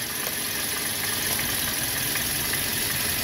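A Toyota Vios engine idling after a part was reinstalled, giving a steady, loud, even hum with a hissy upper layer and no speech.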